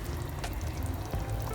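A chicken sauce simmers gently on low heat in a lidded pot, giving off a steady soft bubbling and faint sizzle that holds evenly throughout, with no voices.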